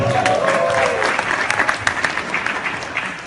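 A crowd bursts into loud, sustained applause, clapping and some cheering, with a few voices briefly under it.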